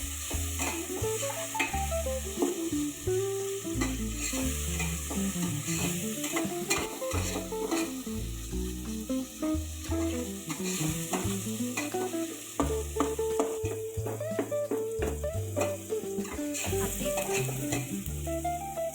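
Tomatoes sizzle and fry in a pan with onions and curry leaves for a chicken curry while a utensil stirs repeatedly, giving a continuous close crackle with rhythmic scraping.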